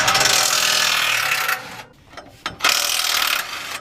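An impact gun drives 14mm exhaust bolts on a Honda S2000, giving loud close rattling bursts of hammering that stop briefly, then resume after a short pause and a clunk.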